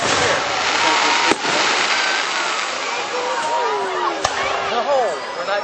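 Fireworks exploding at a July 4th show in Grand Mound, Iowa: a loud continuous wash of crackling bursts with a couple of sharp booms, heard from the crowd while people talk nearby.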